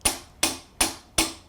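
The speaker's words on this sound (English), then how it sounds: "I'm going to come in with the hammer and just" A steel hammer taps the blade of a Stanley 60 block plane to adjust it, four sharp, evenly spaced metallic knocks, close and crisp, with nothing else in between.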